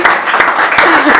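A short burst of audience applause at a talk show, steady clapping from a crowd lasting about a second with a voice faintly underneath.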